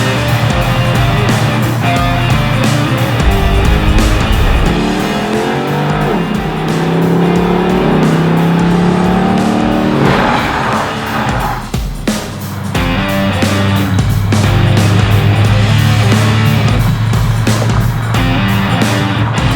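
A custom garage-built, slammed 1963 Lincoln Continental with an LS engine drives along, its loud, close engine rumble rising and falling through gear changes and revs, with a brief quieter dip partway before the heavy drone returns.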